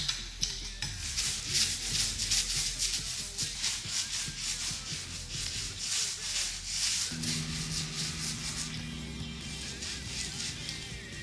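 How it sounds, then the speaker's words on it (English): Paint roller spreading black paint across a wooden cabinet, a soft repeated rubbing and swishing in back-and-forth strokes, close and fairly quiet, with a faint hum joining near the end. "I'm simply going to apply this with a roller and leave it to dry"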